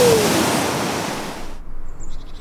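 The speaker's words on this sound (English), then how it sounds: "When the water heats up a lot, it can even shoot out of the ground as a geyser." A hot-spring geyser erupts with a loud, rushing roar of spraying water that fades slightly, then cuts off abruptly halfway through, leaving a quieter, fluttering hiss behind.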